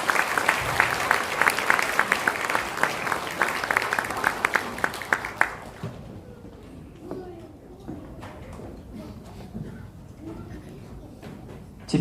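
Church congregation applauding at a deacon and elder ordination service, a dense, loud wash of clapping that cuts off about halfway, leaving a quieter room with scattered shuffling and faint voices.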